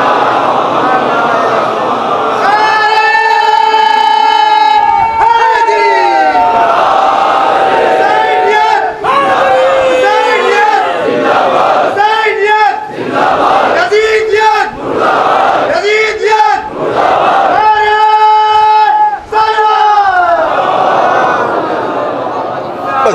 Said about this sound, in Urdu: ایک سلوات بلند آواز سبر محمد اللہ.